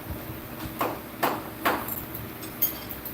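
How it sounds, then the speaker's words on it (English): An automotive hammer used during a motor teardown gives four sharp, separate knocks at an uneven pace over low background noise, fairly close, with no speech. "here's my automotive hammer"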